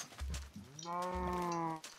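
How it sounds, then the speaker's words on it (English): A cow moos in the Minecraft video game, a single loud, drawn-out low tonal call of about a second, preceded by a couple of short grunting thumps, with no talk. "Jeez, there's so many cows over here."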